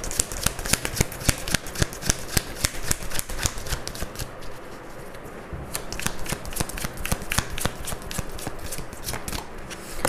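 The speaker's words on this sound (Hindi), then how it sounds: "चलिए साई बाबा डेक से देखते हैं आपके लिए क्या एडवाइस आता है." Tarot cards from a Sai Baba deck being shuffled in fast, crisp riffling bursts that run continuously, close and fairly loud, with no talking.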